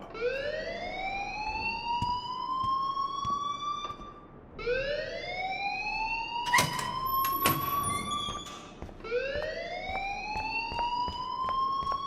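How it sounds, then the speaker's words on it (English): Repeating wailing alarm siren in the video game Life is Strange, rising sweeps cycling every few seconds, loud and steady, with a brief clatter midway and no talk over it. "please turn off that alarm since that's your job"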